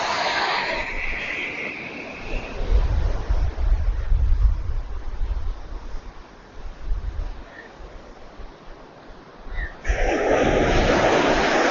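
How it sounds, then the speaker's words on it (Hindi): Strong waves of the Bay of Bengal roll in along the coast near Mahabalipuram, a loud, continuous roar of surf with heavy wind buffeting the microphone, building and easing through the stretch. "लहरें आ रही है जबरदस्त।"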